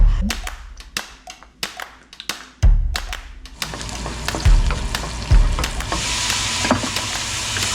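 Menudo sizzles and fries in a pan, opening with a run of sharp taps and knocks of a utensil against the pan, then settling into a loud, steady hiss of frying broken by occasional stirring clatters.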